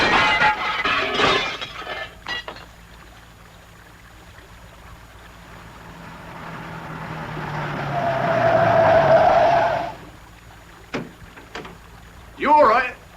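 A radio-drama car crash on the road, with an opening burst of voices and impact, a long tyre skid rising to a harsh scrape, then sharp shattering glass and crunches near the end.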